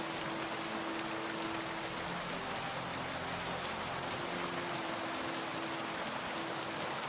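Steady rainfall in the medieval world of Kingdom Come Deliverance II, a constant broadband hiss of drops with a faint low tonal hum beneath, even and unbroken throughout with no talking.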